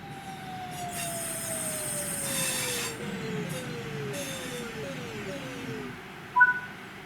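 A train in Train Sim World 5 brakes to a stop, its wheels squealing in a long falling whine that breaks into shorter descending squeals, ending with a brief clunk as it halts.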